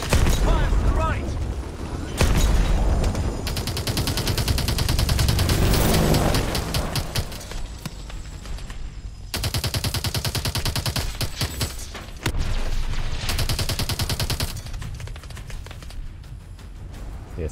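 Rapid automatic gunfire and bursts from Call of Duty: Advanced Warfare (2014) on PC, loud and dense, with chattering volleys and booms that pause and resume over the whole stretch.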